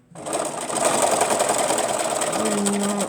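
Sewing machine running a continuous zigzag stitch along the other side of a fabric face mask, a loud, steady, rapid mechanical whir close up with a brief motor pitch change near the end.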